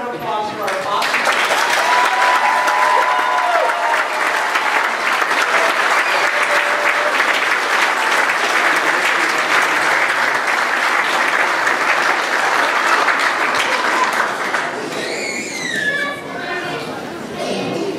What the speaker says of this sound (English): let's get one more round of applause